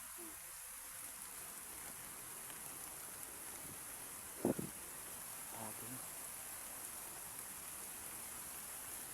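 Steady rain hisses down outdoors in a continuous, even wash, with a brief louder thump and faint voices partway through.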